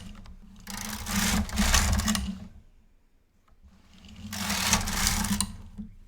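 Knitting machine carriage sliding across the needle bed while knitting faux fur yarn, two long rattling passes about two seconds each with a pause between, close and steady.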